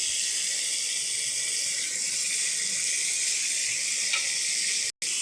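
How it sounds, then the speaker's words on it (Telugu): Chopped broad bean pieces dropped into a pan of onions frying with a pinch of salt give a steady, bright, even sizzle that holds close and loud throughout, with one brief cut near the end. "ఇప్పుడు చిక్కుడుకాయ ముక్కలు వేసుకుందాం"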